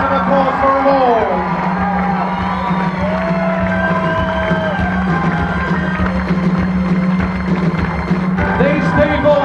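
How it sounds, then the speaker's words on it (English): A crowd applauds and cheers for performers at a live rock show, a steady loud wash of clapping and whoops running throughout alongside sustained music. "A big round of applause for them all."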